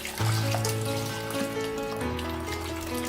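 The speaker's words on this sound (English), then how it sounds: "I add a bit of water" Steady trickle of water running into a cooking pot of chicken and assorted meat for stew, continuous and fairly close, with a low hum underneath and no voices.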